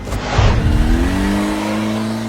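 A motorcycle engine revs up loudly and then holds a steady, rising drone that stays close for about two seconds, with no talking.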